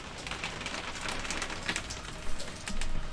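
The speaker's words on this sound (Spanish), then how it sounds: "¿Escucháis, no? ¿La lluvia o no?" Steady rain pours down outdoors, a dense even hiss of drops on surfaces with a few louder spatters, continuous and fairly close, no voices.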